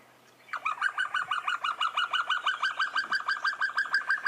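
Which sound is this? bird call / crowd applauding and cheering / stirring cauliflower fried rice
bird call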